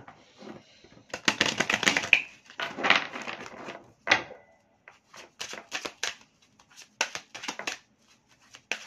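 Oracle cards being shuffled on a table: bursts of riffling and sliding card noise in uneven clusters, close and clear, with brief pauses between rounds and no talk.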